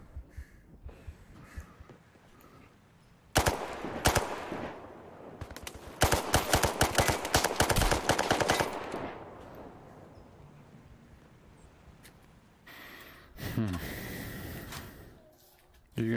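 Bursts of rapid gunfire in the VR shooter Zero Caliber come in loud clusters between quieter stretches, with breathing and snorts near the microphone.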